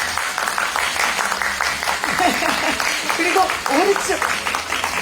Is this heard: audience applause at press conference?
yes